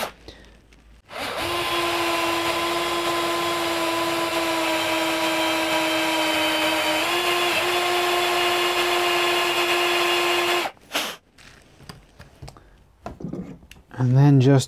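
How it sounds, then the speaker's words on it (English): A power drill bores into wood with a 10 mm brad point bit, a loud steady whine holding for about ten seconds before stopping, followed by brief handling noises and a short burst at the end. "so as I'm drilling,"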